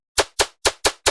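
A noise-impulse transient layer for a dubstep track: five short, sharp, bright hits, each snapping in with a quick decay like a clap or knock, spaced evenly with silence between them.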